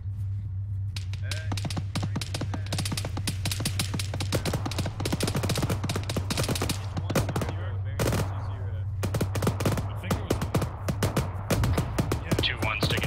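Gunfire during a military field training exercise, long stuttering bursts of rapid shots with brief pauses, loud and close, under a low steady engine hum and scattered radio talk.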